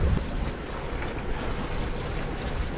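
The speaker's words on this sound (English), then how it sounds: "there's quite a bit of swell here. But it's not so bad, but there's more wind than I thought" Steady ocean swell and gusting wind wash around a sailboat at sea, a continuous broad rushing roar with wind buffeting the microphone and no voices.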